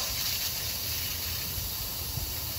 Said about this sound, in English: now we're going to quick release the remaining steam.